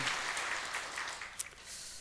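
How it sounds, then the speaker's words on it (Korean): A church congregation applauding during a worship service, a dense, even wash of clapping hands that continues steadily throughout the moment, moderately loud with no talk over it. "우리 하나님께 영광의 박수 돌리겠습니다"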